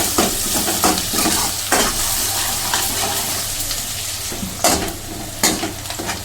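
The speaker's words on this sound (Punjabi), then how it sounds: "ਪਿਆਜ਼ ਸਾਡੇ ਚੰਗੀ ਤਰ੍ਹਾਂ ਭੁੰਨਦੇ ਪਏ ਆ" Onions and crushed green chillies roast in a pan with a loud continuous sizzle, punctuated by regular metal spatula scrapes and knocks against the pan, close and without speech.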